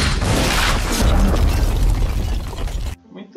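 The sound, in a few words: firecracker bang sound effect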